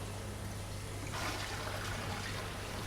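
Tap water running into a fish tank during a water change, a faint steady trickle and rush that swells a little partway through, with no talking.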